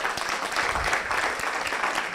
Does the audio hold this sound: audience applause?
yes